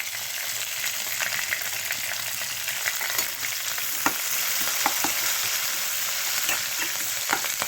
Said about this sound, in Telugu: పచ్చిమిరపకాయలు వేగిపోయాక నేను ఉల్లిపాయలు వేసేస్తాను.